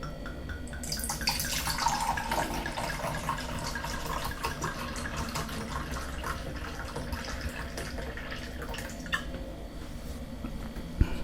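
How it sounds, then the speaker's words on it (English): Wine is poured into a glass close up, a soft continuous trickle and gurgle lasting several seconds, ending with a small clink. "let's pour the wine."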